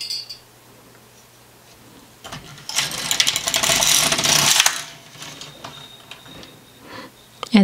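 The carriage of an LK150 knitting machine is pushed across the needle bed while a sock is knitted. It makes a single close, rattling, clicking pass of about two seconds between quieter handling noises.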